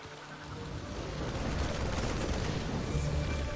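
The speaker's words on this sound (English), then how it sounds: "Our forces have opened fire." Dense, continuous barrage of gunfire and explosions from a StarCraft 2 co-op battle, rumbling heavily in the low end and swelling slightly louder as it goes on.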